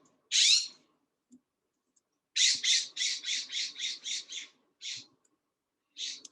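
A blue jay gives harsh squawking calls, one early cry then a quick series of about eight repeated jay notes and a few more, clear and fairly close against a quiet background.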